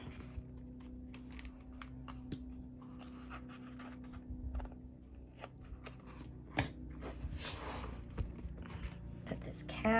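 Scissors trimming the corners of paper for a mermaid-themed art journal page, producing small crisp snips and rustles of paper scattered over ten seconds, close up and fairly quiet.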